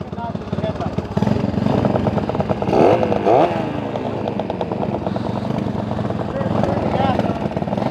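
A TA125 two-cycle street motorcycle engine idles close by with a steady, buzzy, crackling putter throughout, rising briefly in a quick rev, while someone talks over it.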